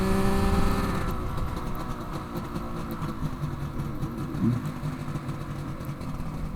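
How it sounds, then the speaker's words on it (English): A Suzuki GT750 two-stroke motorcycle engine drones steadily while being ridden, with a busy buzzing rumble that eases slightly after the first second and then runs on evenly with no speech. "it's a two-stroke, so you don't get any engine braking"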